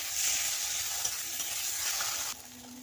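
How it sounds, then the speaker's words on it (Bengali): Ground spice paste of cumin, coriander, poppy seed and mustard sautéing in hot oil for a soybean dish, giving a steady, close hiss of frying that drops abruptly to a quieter sizzle near the end. "ওর মধ্যে দিয়ে দেবো ভালো করে কষিয়ে নেব বেটে রাখা জিরা ধনা আর পোস্ত আর সর্ষে"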